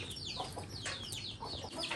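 Chickens cluck and squawk nearby in quick uneven bursts, a fairly faint farmyard chatter with no voices over it, heard outdoors during a rural meal preparation.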